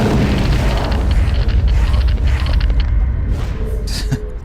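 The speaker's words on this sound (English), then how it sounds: "Good AoE bomb will take him out in no time" An area-of-effect bomb spell exploding in EverQuest 2, a loud booming rumble with bursts layered together that fades slightly toward the end.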